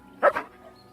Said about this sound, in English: Who's a good dog? Can I pet that dog?